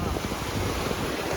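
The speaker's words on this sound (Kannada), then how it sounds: "ನೋಡಿ ಅಲೆಗಳು ಹಿಂಗೆ ಬರ್ತಾ ಇದೆ" Ocean waves rolling in at sea off Kannur, Kerala, heard from a boat: a steady, loud wash of water under heavy wind buffeting against the microphone, with no clear breaks.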